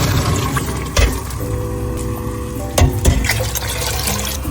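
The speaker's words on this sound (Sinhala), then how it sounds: "දැන් මේකේ ස්වල්පයක් මේකට හලා ගන්නවා අපි." Liquid is poured steadily into a pot of Korean spicy chicken soup (dakgaejang), a continuous close watery rush with a couple of brief clunks partway through.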